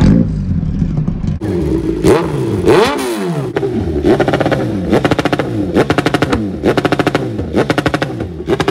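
A Kawasaki Z900 superbike with a full system exhaust cold-starts and revs loudly up close, rising and falling throttle blips giving way to a rapid, rhythmic pulsing burble, with no talking over it.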